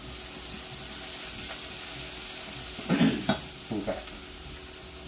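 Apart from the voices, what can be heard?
oil sizzling in a pan while cooking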